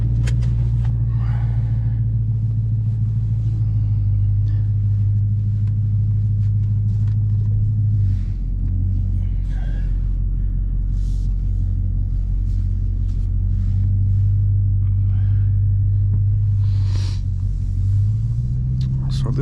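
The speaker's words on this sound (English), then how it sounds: "We need to break in the Hellcat," A 2022 Dodge Challenger Hellcat on the road as heard from inside, with a deep, steady engine rumble and drone that shifts pitch briefly as it changes speed, while a voice talks faintly at times.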